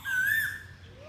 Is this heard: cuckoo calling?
yes